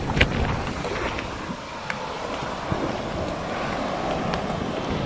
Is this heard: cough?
no